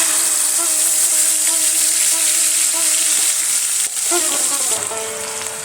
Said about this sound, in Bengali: এবার ওই তেলের মধ্যে ম্যারিনেশন করার সময় যে মশলাটা ছিল ওটা দিয়ে দেব।